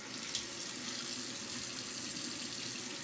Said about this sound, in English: Do a quick cold water rinse here.